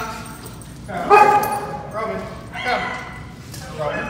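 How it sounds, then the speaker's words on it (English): A German Shepherd barks and whimpers at dogs next door in a few short, high-pitched bursts, with a trainer's voice speaking alongside. "Roman's pretty interested in the dogs next door."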